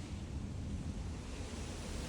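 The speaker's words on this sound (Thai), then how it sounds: "โอ้ยดูสิลมลมมาแล้วน่ะ ลมแรงนะวันนี้" Strong wind blowing outdoors makes a steady, broad roar that stays fairly even throughout the short stretch, with no voices over it.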